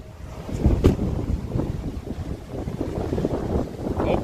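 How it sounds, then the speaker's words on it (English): Breezy wind buffets the microphone over Lake Erie during a storm, a continuous rough rumble with gusty swells and one sharper burst early on, and no voices. "A little breezy out here"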